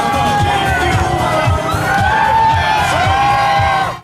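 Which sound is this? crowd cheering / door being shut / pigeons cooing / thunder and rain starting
crowd cheering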